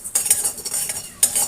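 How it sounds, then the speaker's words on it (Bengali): Whole coriander seeds and other whole spices frying dry in a pan for pickle, stirred with a metal utensil in quick scraping strokes, with a light crackle and sizzle running underneath. "মশলাটা ভাজা হতে থাক।"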